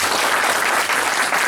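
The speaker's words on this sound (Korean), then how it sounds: "앞에 발표해 주신 분들께 박수 한번 부탁드립니다." Dense, steady applause from an audience at a physical education teachers' research group showcase gala, loud and close, continuing without pause and with no talk over it.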